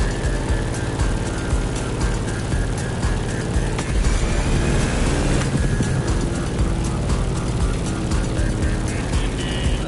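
A propeller airplane droning steadily through turbulent air, a loud, continuous engine hum with a rattling, buffeting texture that holds without pause.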